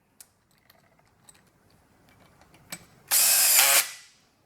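A power drill set to low torque drives a self-tapping screw into a Thule T2 Classic platform bike hitch rack. A brief loud whir of under a second follows a few faint clicks and handling noises.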